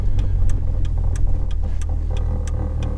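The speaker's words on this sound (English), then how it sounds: "the Magnex exhaust they've got on, it's just knocking a little bit" A Ford Fiesta RS Turbo idles with a Magnex exhaust, a close low rumble with regular light knocking pulses ticking through it.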